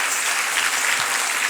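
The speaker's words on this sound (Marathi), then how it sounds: "अजून जोरदार टाळ्या झाल्या पाहिजेत" Applause from an audience at a Kathak dance festival, a dense, continuous wash of many hands clapping together, fairly loud and even throughout with no voices over it.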